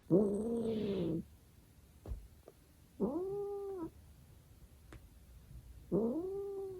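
A cat growling from under a blanket: three long, low, sustained growls separated by quiet pauses, close and clear with no talking.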